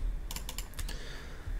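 Computer keyboard keys pressed while modeling a tire in Maya: a quick cluster of about six crisp clicks in the first second, then quiet, close to the microphone with no speech.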